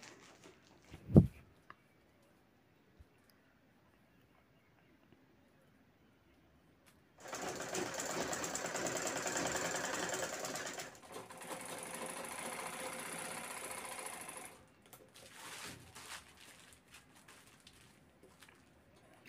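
Sewing machine stitching the straps onto a large fabric shopping bag, about 1.5 inches from the zipper; a steady mechanical whir runs in two close bursts after a single sharp knock and a long quiet stretch.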